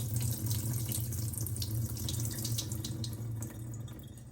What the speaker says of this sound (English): So I'm just going to pour it straight out like this.